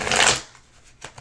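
A quick riffle of tarot cards being shuffled, one short crisp burst up close followed by a soft tap.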